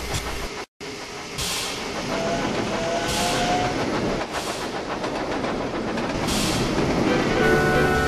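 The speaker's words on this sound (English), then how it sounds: "Stephenson was pulling a mixed goods train bound for Barrow" A mixed goods train rolls steadily along the rails, with rhythmic clatter, hissing and a loud, continuous rumble, brief tonal squeals, and no voices.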